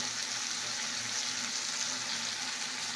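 Cumin, ginger-garlic paste and spices sizzle in a pan with a steady, even hiss, close and continuous, with a faint low rumble beneath and no voices.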